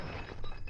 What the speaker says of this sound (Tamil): ஐயோ கிளாஸ் உடைஞ்சிருச்சு.